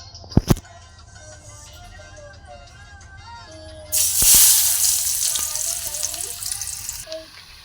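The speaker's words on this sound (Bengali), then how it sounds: "আমি আলুটা দিয়ে দিয়েছি তেলে" Oil sizzles loudly after a couple of sharp knocks as potatoes go into hot mustard oil in a kadai, a steady hiss of frying that rises suddenly and continues to the end.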